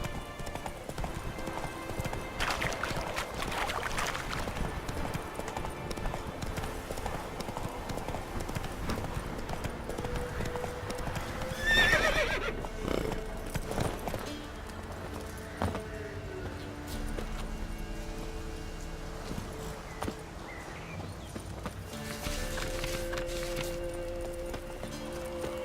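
Roach the horse galloping in The Witcher 3 video game, with rhythmic hoofbeats and clip-clop footfalls over background game sounds, and a brief whinny partway through.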